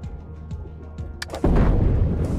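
A bomb goes off in a video game as a sudden booming blast. Light ticking game sounds come before it, and a loud rumbling tail follows.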